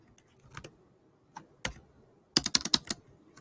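Keys on a computer keyboard clack in short scattered taps, then a quick close burst of several keystrokes, crisp and near in an otherwise quiet room.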